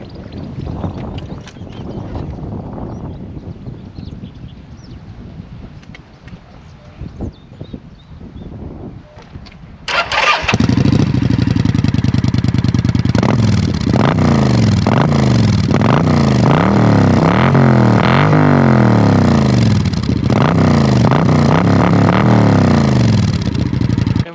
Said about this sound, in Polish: Naprawdę bardzo podoba mi się dźwięk silnika.